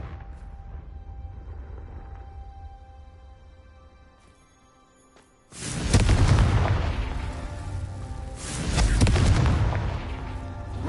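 A Confringo blasting spell exploding in the Hogwarts Legacy video game: after a quiet stretch, a sudden heavy boom erupts, followed by a second rumbling blast a few seconds later.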